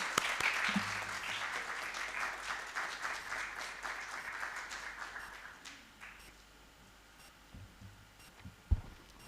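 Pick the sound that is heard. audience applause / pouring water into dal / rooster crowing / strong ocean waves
audience applause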